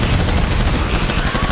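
Loud, dense battlefield gunfire from the video game Death Stranding, continuous overlapping automatic bursts and booms filling the scene with no pauses.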